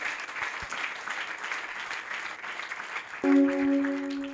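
A church congregation claps together in a dense, sustained burst of applause at moderate distance, and a steady organ-like tone enters near the end.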